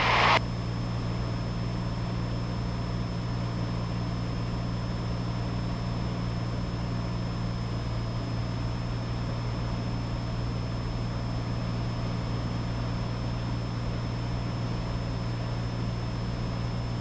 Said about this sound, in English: I'm gonna start slowly reducing the power here to be nice to his engine